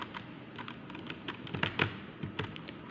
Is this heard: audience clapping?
no